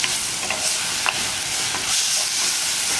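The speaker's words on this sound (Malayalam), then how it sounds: "അപ്പോൾ അതാ നമ്മുടെ സവോളയൊക്കെ ഒന്ന് വഴന്ന് വന്നിട്ടുണ്ട്" Sliced onions sautéing in a pan for a Kerala mango curry, giving a steady close sizzle with soft scraping stirs of a spatula throughout, no voices.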